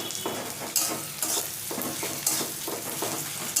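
Onion with ginger and garlic paste sizzles in a pan for a jackfruit curry, a steady close frying hiss broken by repeated scraping stirs of a spatula.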